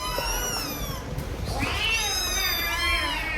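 Several young kittens at a cat shelter in Rabat, Morocco, meow in high, overlapping cries, one after another, close by against a faint background murmur.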